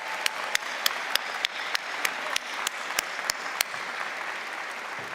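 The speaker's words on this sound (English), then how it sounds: "Let's give him a round of applause." An audience at a spring convocation ceremony claps for a graduating student, steady applause with sharp individual claps standing out at a fairly regular pace.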